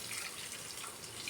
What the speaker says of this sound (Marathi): आपल्याला आता 1 ग्लास पाणी घालायचं